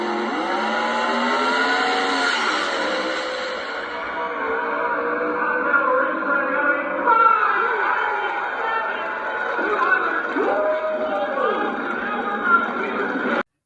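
Ford Coyote small-block V8, 5.0 or 5.2 liter, running and changing pitch through revs, its tonal drone rising and falling steadily at fairly high level, with a harmonic sweep near the end.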